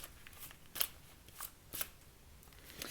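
Tarot cards are handled, shuffled and pulled from the deck, producing a few faint, close crisp snaps and slides spaced irregularly against a quiet background.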